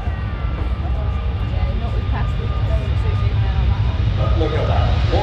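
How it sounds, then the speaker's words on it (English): An Airbus A380 airliner takes off at Farnborough, a broad, steady low engine roar that swells slightly as the aircraft departs, heard from a distance with voices talking over it. "Starting the takeoff right now."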